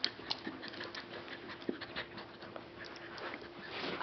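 A cocker spaniel pants rapidly and steadily close by, with quiet breathy rhythm and an occasional soft whimper, no talking.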